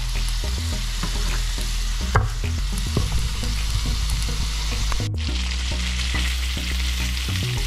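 Lobster sizzling in a pan with a butter and herb basting mixture, a loud, steady close-up frying hiss with scattered pops and crackles and brief spattering bursts, no voices.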